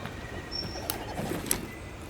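Bird calls in the Scarlet Forest of the video game Monster Hunter Wilds: a few short, faint chirps and a soft coo over a steady tropical forest ambience, with no talking.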